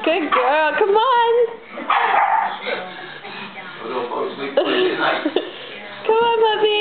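Puppies bark and yip in playful bursts close by, with high whining cries mixed in, under a person's ongoing encouraging talk.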